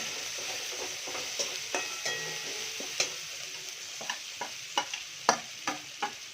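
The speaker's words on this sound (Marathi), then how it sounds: "चला पोहे टाकूया" Flattened rice (poha) is tipped into a pan and stirred, giving a run of light scraping clicks and soft sizzle, about a dozen separate strokes over a faint background hiss.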